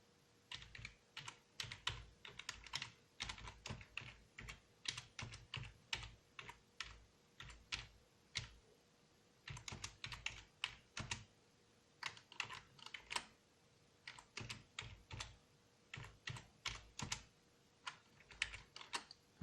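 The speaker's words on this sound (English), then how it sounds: "So send a message, press S, and we type our message." Steady typing of a message on a computer keyboard connected to a BBS, rapid irregular clusters of crisp key clicks with short pauses, close and fairly quiet, no speech.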